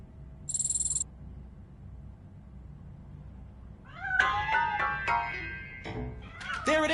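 A cat meows from inside a piano in RoboCop: Rogue City, several drawn-out, wavering meows close by after a brief electronic tone, over a low background hum.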